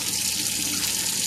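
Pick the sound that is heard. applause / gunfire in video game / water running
water running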